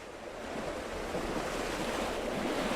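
Ocean waves heard while sailing, a broad, steady wash of surf and wind swelling in at the start and holding at a constant rush, with no voices.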